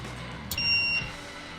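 A VEVOR ultrasonic cleaner powering up for the first time gives a single short electronic beep, close and clear over a faint background hum.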